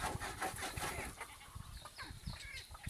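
Chickens clucking on a hillside farm with goats nearby, a busy run of close clucks and squawks under continuous rustling.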